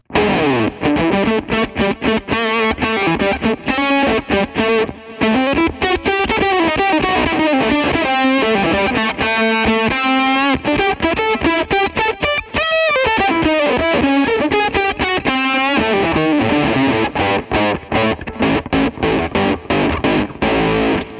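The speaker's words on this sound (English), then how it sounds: "Crunch tone number 4." A distorted electric guitar through a Line 6 POD HD400 crunch tone plays a steady, dense crunchy riff with sustained chords, loud and continuous with only brief pauses.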